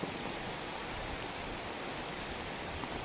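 Heavy rain keeps up a broad, steady wash of noise, fairly faint and unbroken, with no voices.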